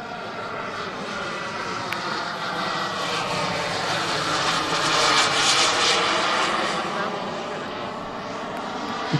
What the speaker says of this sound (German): Der Flugzeug ist jetzt im Downwind, dreht ein in Base, dreht weiter im Final